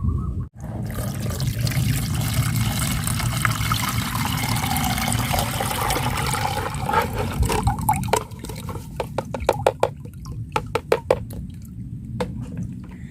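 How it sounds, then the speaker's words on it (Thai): Soaked eggshell liquid strained through a sieve, a steady pouring trickle of water for several seconds that thins into scattered drips and splashes toward the end. "ให้คุณผู้ชมนะคะนำมากรองเอาแต่น้ำเลยค่ะ"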